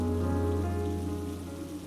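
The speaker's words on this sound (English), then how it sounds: "April shocked as the rain began to pour." Rain pours steadily in a dense, continuous hiss, loud and unbroken across the short span.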